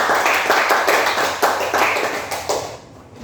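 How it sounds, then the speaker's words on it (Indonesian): A classroom group claps hands in response to a teacher, a brief burst of many hands with audible individual claps that fades out abruptly after about three seconds. "Beri tepuk tangan."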